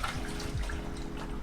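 Warm water runs from a tap for home brewing, a soft continuous splashing stream with slight gurgles, close by and fairly quiet, with no voices over it.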